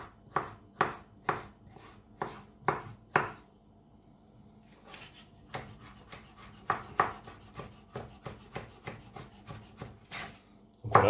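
A kitchen knife dicing avocado into small cubes on a cutting board, a run of crisp regular chops, a short quiet pause, then a quicker, softer series of cuts close by, with no talking.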